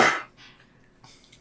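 One person gives a single sharp, close cough at the very start, followed by softer breathy throat noises that fade out.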